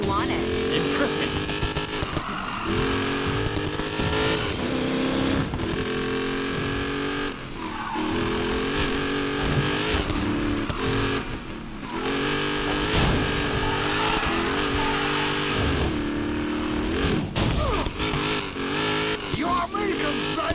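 A fast car roars through the racing video game Need for Speed Payback, its engine droning loudly and continuously with revving and tire squeals, while voices talk over it throughout.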